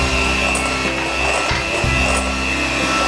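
Electric hand mixer beating egg whites as a sugar and milk mixture is added bit by bit for an ice cream pudding, a steady loud motor whir with low hum that briefly dips and resumes, no talking.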